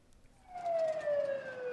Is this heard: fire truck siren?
yes